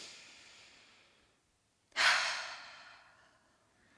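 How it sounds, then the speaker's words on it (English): A slow, deep breath taken during a closing yoga stretch session: a long soft exhale fades to silence, then a sharp, close inhale rushes in and trails off gradually, with no talking. "One more deep breath in."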